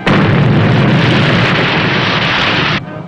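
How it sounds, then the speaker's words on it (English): Depth charges detonate around the WWII submarine USS Crevalle as they bomb its torpedo wake: one loud, sustained roaring blast that lasts nearly three seconds, then cuts off abruptly into a low rumble. "Bombing our torpedo wake."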